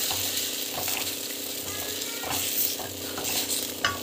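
A pot of sambar bubbles and simmers steadily nearby, with soft popping and a continuous sizzling hiss throughout.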